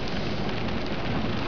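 Heavy rain heard from inside a car while driving, a dense, continuous loud wash of rain noise with no talk.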